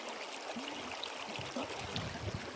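Creek water streaming steadily along a washed-out trail section on the Pacific Crest Trail, a continuous close wash with small trickling and gurgling bursts throughout.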